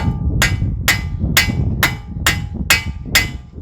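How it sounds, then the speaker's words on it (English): Seven sharp metallic hammer strikes on a Ford Flex axle shaft in a steady, even rhythm, close by, ringing brightly over a low background rumble. "Get a hammer so I can use this to have a nice surface to push this back through"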